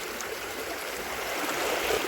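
Water flowing in a stream, a steady close rushing and babbling that grows slightly louder toward the end, with no voices present.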